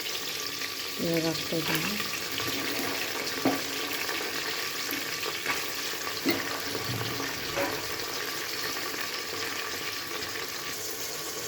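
Soaked dried peas and mint fry in a pan with a steady low sizzle, broken by a few scraping stirs and clinks. Someone speaks briefly.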